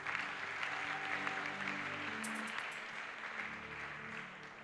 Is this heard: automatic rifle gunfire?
no